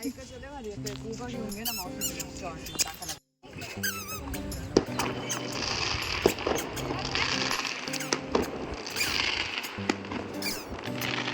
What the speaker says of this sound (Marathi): त्या बिल्डिंगवरतीच एक फटाके फुटत होते